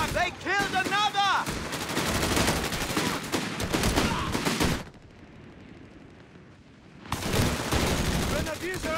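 Loud, dense battle gunfire from Company of Heroes 3, with rapid machine-gun bursts and rifle shots crowding the first half. After a brief lull the firing returns, while voices call out over the shooting.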